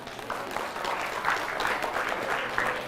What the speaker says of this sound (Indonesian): Dari bunyi tepuk tangannya, tepuk tangan orang kepanasan.